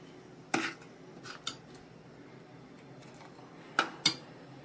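A spoon clinks and scrapes against a pot while Malvani amti with pepper and fennel is stirred, with a few sharp metallic taps spaced apart over quiet background hum and no talking.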